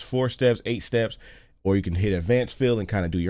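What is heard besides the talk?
None of the usual background noises is heard.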